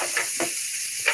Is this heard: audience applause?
no